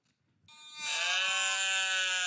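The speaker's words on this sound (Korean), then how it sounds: "사람 소리가 아니고 양입니다." A recorded sheep gives one long, loud, wavering bleat that starts after a brief quiet moment and carries steadily to the end, played during a children's church sermon.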